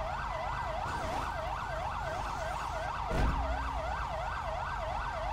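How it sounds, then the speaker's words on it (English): Ambulance siren in Grand Theft Auto V, a steady wailing tone cycling up and down, loud and close as the vehicle passes, with a brief thump of road noise midway. "Ooh, that ambulance almost got me."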